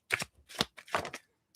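A deck of tarot cards is shuffled by hand, making a few quick papery riffling bursts, close and fairly quiet, with no talking.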